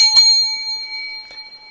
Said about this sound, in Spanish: Trajo su campana.